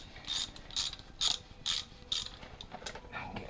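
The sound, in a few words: socket wrench ratcheting on Land Rover 300tdi engine head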